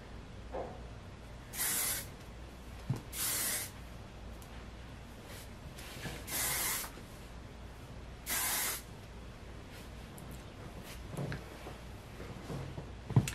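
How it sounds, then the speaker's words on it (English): A can of Big Sexy Hair hairspray hisses onto long hair in several short, separate bursts, each lasting under a second, over a quiet background with faint handling noises. "Now you take your hairspray. I use Big Sexy Hair, and it just gets all the flyaways."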